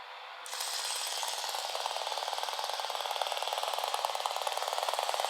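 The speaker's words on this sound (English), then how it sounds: "Let's connect it on and let's turn on the ignition system." A 12-volt battery-powered ignition system fires sparks in a rapid, steady buzzing crackle that starts abruptly and holds loud and continuous, with a fast regular pulse throughout.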